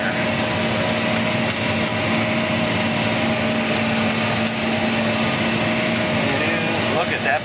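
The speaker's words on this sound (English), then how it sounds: "Look at that big wad of crap about to go into this baler." A hay baler runs continuously as a large clump of material feeds into it, a loud steady mechanical drone with a constant whine and rattling underneath, close to the microphone.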